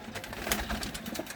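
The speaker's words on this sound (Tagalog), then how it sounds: "Gandang ibon" A pigeon coos softly at a small home pigeon loft in a brief, low, murmuring burst against quiet background noise.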